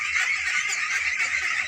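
A dense flock of ducks on a farm over a village pond in Bangladesh calls continuously in overlapping loud honking quacks, close by and without pause.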